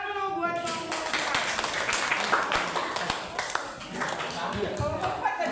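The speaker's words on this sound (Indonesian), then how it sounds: "Tepuk tangan dulu buat kelompok" Classroom applause for a student presentation group at a senior high school, a steady patter of many hands clapping throughout under a noisy room with children's voices.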